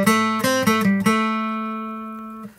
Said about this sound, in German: Wenn du mit dem Plektrum spielst auf der Akustikgitarre,